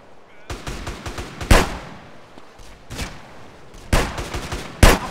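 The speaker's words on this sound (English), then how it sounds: "you gotta use that submachine gun" Submachine gun fire in GTA Underground, with several sharp bursts of shots spread across the stretch, the loudest near the start, middle and end, over a busy game backdrop with faint voices.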